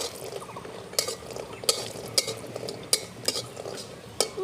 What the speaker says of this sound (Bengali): বড়িগুলো লাল লাল করে ভেজে নিয়ে তুলে নেব।